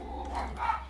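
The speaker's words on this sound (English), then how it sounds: "they're going to start barking at me" Dogs barking indoors behind a shut door, a brief burst of muffled, fairly quiet barks.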